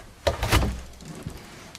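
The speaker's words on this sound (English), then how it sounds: "We have the doors opening up separate directions" Pantry cabinet doors in a Ford Transit van conversion swing open in separate directions, with two close wooden knocks and thunks and a quieter clunk after.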